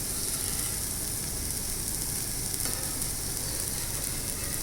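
Dosa batter sizzles on a hot cast iron dosa tawa, a steady close frying hiss holding at an even level throughout with no voices.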